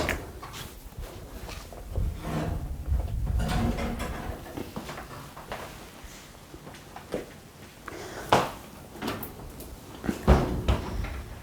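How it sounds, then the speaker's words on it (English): A home kitchen oven door is pulled open, giving several dull clunks and hinge knocks amid handling noise, with a few sharper bangs toward the end. "Carefully open your oven door."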